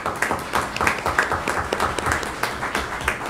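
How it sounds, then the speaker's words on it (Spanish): An audience at a panel discussion on ethics and territorial development claps steadily, with individual hand claps standing out in an uneven, moderately loud round of applause. "Un aplauso para Marcela"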